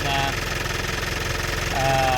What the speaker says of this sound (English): we're gonna run the engine for 5 minutes